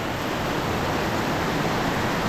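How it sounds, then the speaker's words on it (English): Heavy rain pouring down outdoors, a dense, steady broadband hiss that stays even and close throughout, with no voices. "It's absolutely pouring out here."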